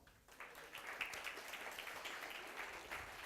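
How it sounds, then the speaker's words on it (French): Applause from an audience at an entrepreneurs' evening event, steady and moderately distant, sustained throughout the whole short stretch with no voices over it. "Je vous demande de l'applaudir très fort."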